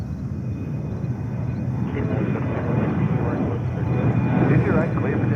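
A JetBlue Airbus A320 taking off at JFK gives a steady, broad jet roar that builds slightly while someone talks over it.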